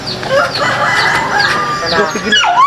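Rooster crowing loudly and close in a rising, drawn-out call, with people chattering nearby around it.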